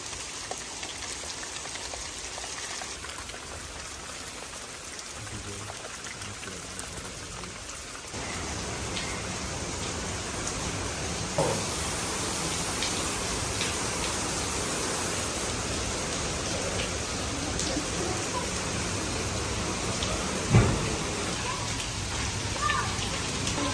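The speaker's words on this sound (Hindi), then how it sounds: "बारिश खुद रुक ही नहीं रही। ये तो एकदम से तेज़ हो गई है।" Heavy rain pouring down outdoors, a steady dense hiss of drops on surfaces that grows slightly louder partway through, with occasional nearby knocks.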